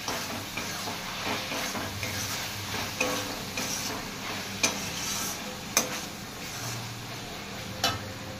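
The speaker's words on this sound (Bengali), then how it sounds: "এবার সবকিছুকে ভালো করে মিক্স করবো।" Chowmein ingredients with chili sauce being stirred in a hot pan, a low steady sizzle under scattered utensil ticks and scrapes, with a few sharper clacks standing out.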